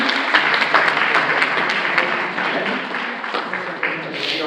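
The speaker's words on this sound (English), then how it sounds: "Let's give him a big hand of applause." An audience at a Bronx County Committee meeting claps loudly and steadily in a dense burst of applause, with some voices mixed in beneath the clapping.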